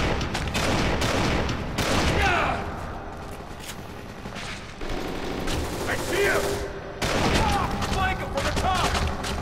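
Rifle and shotgun fire in the video game Kane and Lynch 2: Dog Days, dense bursts of shots and rattling volleys running throughout under a chaotic battle mix with voices.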